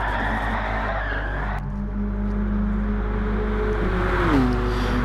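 A race car in a video game, a Renault Megane touring car at Monza, skids and spins after running onto the grass. Its engine drones loudly and steadily, and the pitch slides down as the spin ends.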